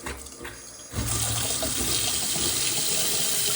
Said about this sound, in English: Oh, I just turned on the water too